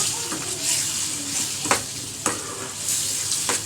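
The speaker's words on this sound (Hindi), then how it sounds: "इनको करेंगे हम अच्छे से अब मिक्स।" Tomatoes with salt and red chili stirred in a frying pan, a bright steady sizzle broken by several sharp scrapes of a spoon against the pan.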